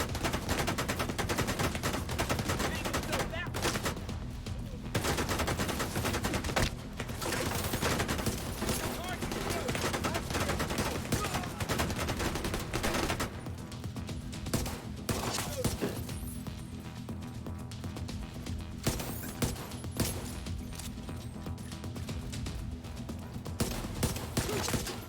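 Heavy automatic gunfire in The Division 2 rattles almost nonstop in long, dense bursts with crashes and impacts, loud and close, with voices talking over the shooting.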